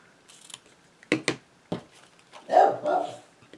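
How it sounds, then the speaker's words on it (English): Pet dog barking at home during a card-making session, a few sharp clicks and snips first, then a loud, close bark near the end. "My dog is barking."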